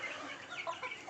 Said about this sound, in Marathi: गावरान कोंबड्या